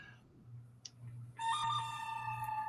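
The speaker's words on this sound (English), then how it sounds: "As soon as my phone starts blowing up." A phone ringtone starts partway through: a bright, sustained electronic tone pattern over a quiet indoor hum, fairly close and loud once it begins, with no speech.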